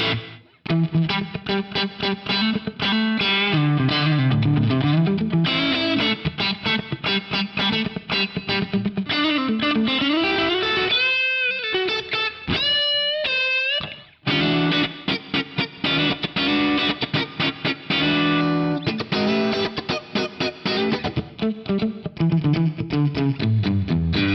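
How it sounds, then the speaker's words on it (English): Distorted electric guitar through an Axe-Fx III with an inverse room gated reverb plays a continuous riff with heavy, abruptly cut-off reverb, loud throughout with a brief sustained break near the middle. "it definitely cops the vibe of that inverse room for a kind of gated reverb thing"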